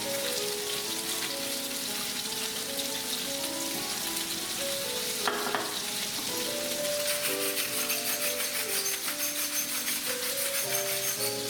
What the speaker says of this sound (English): We just want to get them coated in the oil and brown.